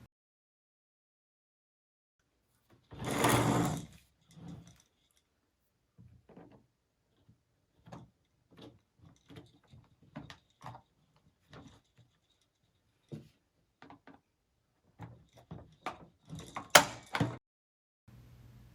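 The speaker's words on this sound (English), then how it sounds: "We need to push the blue pins on both sides. I recommend using a screwdriver to release the pins and pull the handle out." Plastic pins are pushed with a screwdriver to release the handle from a Vtech Sit To Stand Learning Walker, making sparse, close clicks and knocks, with one louder scrape early on and a cluster of sharper clacks near the end.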